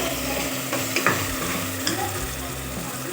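Meat and spices stir-fried for a mild meat curry with shorba: a steady, close sizzle in the pan with scraping stirs and a couple of sharper clinks, continuous throughout with no talking.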